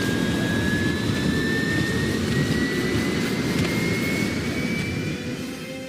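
An airplane engine roars steadily inside the 007 Legends video game during the Goldfinger mission. A loud, continuous jet drone carries a slowly rising whine and eases off slightly near the end.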